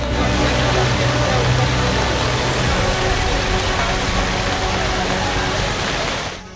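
Heavy monsoon rain in Mumbai, heard as a dense, loud, continuous roar of downpour that stays steady for several seconds before fading slightly at the end.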